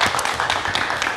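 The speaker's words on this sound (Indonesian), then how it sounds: "kita berikan tepuk tangan" Brief burst of studio audience clapping on a live late-night talk show as guest Teddy Aditya takes his seat, crisp overlapping claps close and moderately loud.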